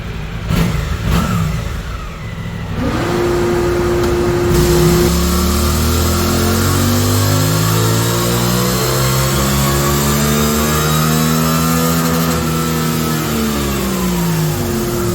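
A 2024 Suzuki GSX-8R, bone stock and restricted, makes a dyno pull in 5th gear: after a brief idle its engine climbs in one long, loud, rising rev, with the pitch sweeping steadily upward close by.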